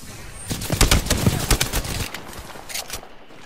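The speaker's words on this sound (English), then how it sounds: "I'm taking fire." Video game gunfire comes as rapid bursts of shots in quick succession, fairly loud and close, over about two seconds before trailing off, with no talk over it.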